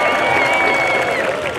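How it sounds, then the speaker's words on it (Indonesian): An audience applauds at the opening ceremony of the 2023 Human Rights Festival in Singkawang, a dense, loud burst of clapping with crowd murmur and a faint tonal backing underneath. "Tepuk tangan dong."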